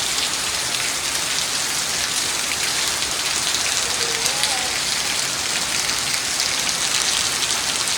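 Heavy morning monsoon rain pours down in a dense, loud, unbroken roar of drops hitting surfaces outdoors, steady throughout with no voices.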